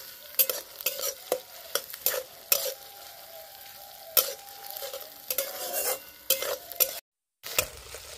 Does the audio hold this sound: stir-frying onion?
yes